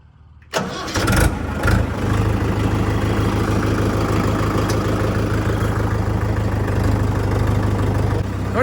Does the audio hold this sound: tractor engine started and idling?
yes